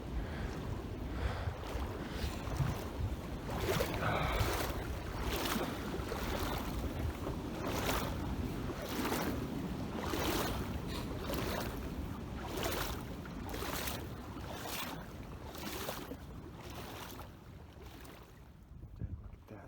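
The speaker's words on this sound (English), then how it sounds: "Wonder where the extra waves are coming from." Waves slap and splash against a small boat on open water in a steady, surging rhythm, mixed with gusty wind buffeting the microphone, with no voices.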